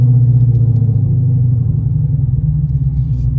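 A car engine idles on E85 ethanol fuel, a loud, close, steady low rumble with a slight pulsing throb and no other sounds.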